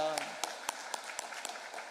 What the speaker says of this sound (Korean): 우리 주님께 감사와 영광의 박수 함께 올려드리겠습니다